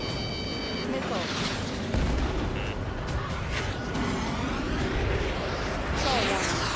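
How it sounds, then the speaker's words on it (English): Missile launches in Ace Combat 7 over constant jet engine roar, with several whooshing bursts and beeping tones scattered through; a voice speaks over the noise. "Strider 1, missile launched."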